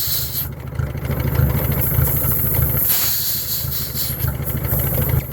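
A PTO-driven tractor air pump works nearby with a steady, loud, rhythmic pulsing over a constant hiss of air, with no talking.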